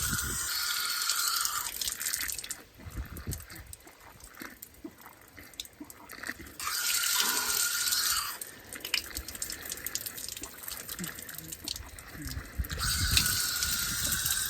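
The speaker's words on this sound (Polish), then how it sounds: "Spuszczę tą ciepłą wodę" Warm water runs from a public tap or hydrant near a beach, a steady hissing gush that pauses and restarts several times, loud and close.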